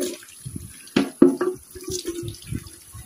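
A burnt, blackened pot being rinsed under a running tap, close splashing and sloshing water with a few louder gushes and drips over roughly three seconds.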